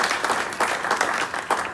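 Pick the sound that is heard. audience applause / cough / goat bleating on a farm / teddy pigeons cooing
audience applause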